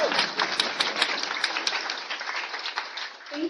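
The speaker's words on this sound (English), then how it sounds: "Cue round of applause." Audience applause following a keynote at an open source software conference, a dense, steady wash of many hands clapping that fills the room throughout, with a few sharper individual claps standing out near the start.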